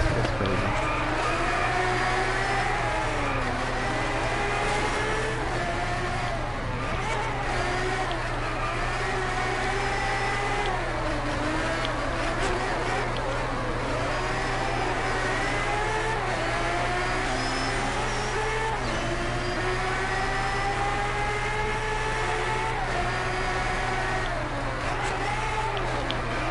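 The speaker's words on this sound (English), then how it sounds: "I can hear him downshifting through the corner and fucking stomping on it." A racing engine in the video game Driveclub whines up and down through the gears, downshifting through a corner, pitch climbing and dropping repeatedly, steady and close, with a constant low drone beneath.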